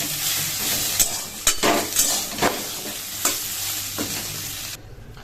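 Boiled soybean chunks fry in oil with turmeric in a pan, a loud continuous sizzle broken by repeated clinks and scrapes of a stirring spoon, ending suddenly near the close.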